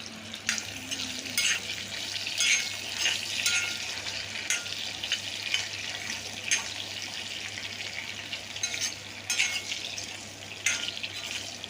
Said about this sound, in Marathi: बटाटे आपल्याला 5 मिनिटं फ्राय करायचे